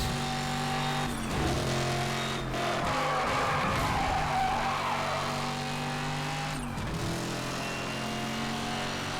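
A race car in Need for Speed Hot Pursuit Remastered roars continuously under a nitrous boost, its steady engine drone rising and shifting, with brief dips and whooshes as it speeds along.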